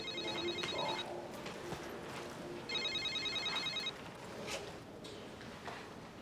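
Telephone ringing in a domestic setting, two bursts of a bright electronic ring with a pause between, over low room noise.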